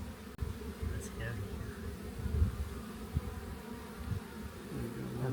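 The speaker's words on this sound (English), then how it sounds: "a lot of bees on there, isn't there?" Honey bees swarm and buzz around an open hive frame during an inspection. The steady, close droning hum fills the whole stretch with little change, and faint voices murmur beneath it now and then.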